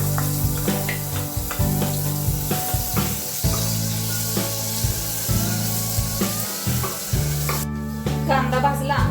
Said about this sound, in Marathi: त्यामध्ये कांदा भाजायचा।